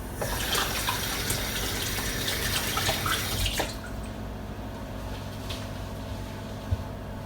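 A tap runs steadily as hands are washed at a sink, a close, full rush of water that drops to a softer trickle partway through, with a small clunk near the end.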